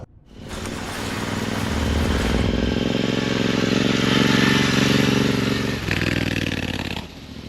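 A Royal Enfield Interceptor motorcycle accelerates from a start and cruises along the road, its loud engine rising in pitch, steadying, then easing as the rider shifts.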